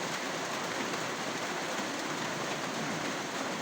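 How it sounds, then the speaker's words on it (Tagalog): Steady rain falls on a waterlogged house front during a long spell of downpour. It makes an even, dense hiss that never pauses, with no voices. "Ulan na naman."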